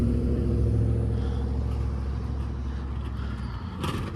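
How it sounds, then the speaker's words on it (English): A car drives past close by near a SEPTA regional rail line in Huntingdon Valley, Pennsylvania, a steady loud engine and road rumble that slowly eases off, with a brief brighter burst near the end. "oh, look at that car"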